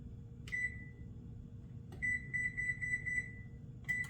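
Oven control panel beeping as the temperature is set to 375 for a bacon double cheese quiche: a short high electronic beep, then a steady run of quick repeated beeps, and another beep at the end, over low kitchen hum.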